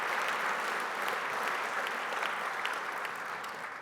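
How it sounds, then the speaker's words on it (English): An audience at a talk applauds WestJet, a steady dense wash of many hands clapping, moderately distant and soft, tapering slightly at the end with no voices on top. "Come on, round of applause for WestJet."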